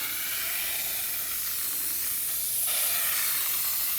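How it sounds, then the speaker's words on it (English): A continuous fine hiss of a spray bottle misting water onto Alcantara in a Corvette interior, steady and close, growing slightly brighter and louder toward the end. "So you could just use a spray bottle with water,"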